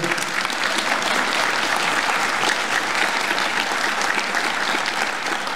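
Sustained, steady applause from an audience at a university's academic year inauguration ceremony, a dense even wash of clapping hands throughout with no pauses.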